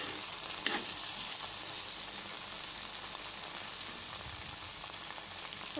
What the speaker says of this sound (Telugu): ఇలా లిడ్ తీసేసుకుంటూ 2 మినిట్స్కి ఒకసారి కలిపేసుకోవాలి